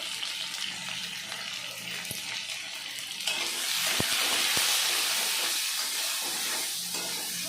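Potatoes frying in a pan with salt and turmeric for a village-style potato and eggplant curry, a steady close sizzle with occasional stirring clicks that grows slightly louder midway.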